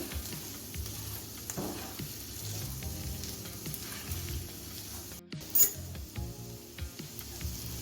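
Salted potatoes frying in ghee over a low gas flame, stirred with a spoon: a soft, continuous sizzle with scraping and light clinks and one brief louder knock.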